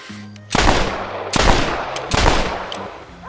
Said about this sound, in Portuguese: saca o seu revólver e dispara 4 tiros